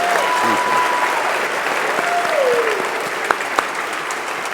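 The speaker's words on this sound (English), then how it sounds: "Can I have one last round of applause for the LDTV folks who put this together" An audience at the 2019 LDTV Awards ceremony gives a full, even round of applause, a loud continuous roar of clapping with a few whistle-like tones rising above it and a couple of sharper claps near the end.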